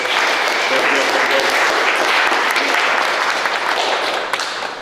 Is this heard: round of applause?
yes